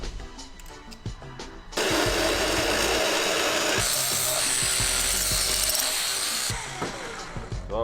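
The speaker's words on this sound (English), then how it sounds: "So what we're doing there is taking the outside burr off" Deburring the outside edge of a freshly cut turbo pipe on a turbocharged Honda, heard as a loud, steady abrasive grinding roar running several seconds in a workshop, with clicks and handling noises before and after.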